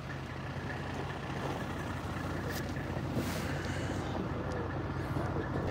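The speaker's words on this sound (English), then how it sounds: "there's a bunch of tow trucks over there" Tow trucks labor on an icy hill in winter, a steady low diesel engine rumble heard from a distance, continuous and unbroken, with no voices.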